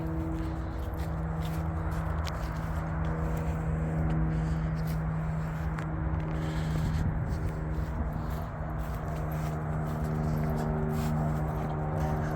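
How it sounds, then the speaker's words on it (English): Steady road and motorway traffic near major roads including the A4019 by a detached house garden, a continuous distant roar and hum with no breaks, no voices. "You can definitely hear the traffic though"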